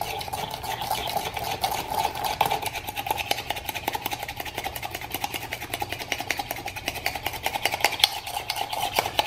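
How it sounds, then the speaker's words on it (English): Spoon whipped rapidly side to side through sugar and espresso for Cuban coffee cream, a fast, steady scraping and clicking rhythm against the cup, close and continuous, with a low hum underneath and no talking. "The more that you whip it, the whiter it will become."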